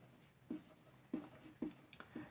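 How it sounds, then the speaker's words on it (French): Chalk or pen writing out a math formula during an integral calculus exercise: four short, distinct taps and strokes spaced about half a second apart, close but quiet against a faint room hiss. "Moi, je vais juste l'écrire."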